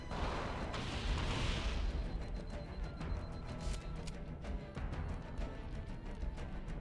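Gunfire and grenade explosions in a hallway during a Halo video game: a dense, loud rumbling barrage, an early swelling blast followed by rapid crackling shots, with no talk.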